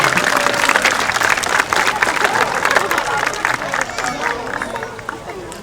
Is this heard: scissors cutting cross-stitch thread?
no